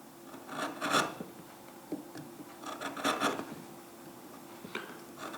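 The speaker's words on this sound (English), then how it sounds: "let's just start taking slices off the top, and at the moment it's just gliding through" A Blue Spruce chisel plane shaving slices off the top of a wooden workpiece, several short rasping strokes in uneven bursts, close up with no voices.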